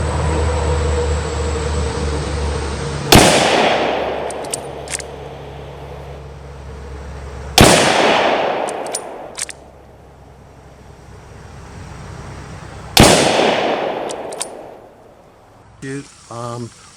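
Three loud, sharp Swedish Mauser M38 6.5x55 rifle shots ring out outdoors several seconds apart, each a close cracking report that decays into rumbling echo, with steady background noise between and brief handling clicks near the end.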